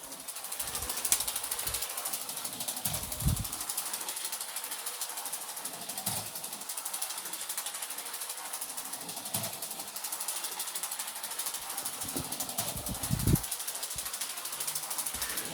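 A Lego 12 volt model train runs along its track with a fast continuous mechanical ticking and clatter, fairly faint and steady, with occasional low bumps.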